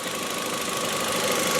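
A 2001 VW Jetta GLS's 20-valve 1.8 liter turbo engine runs at a steady idle, a close, even mechanical drone with a faint ticking texture and no voices.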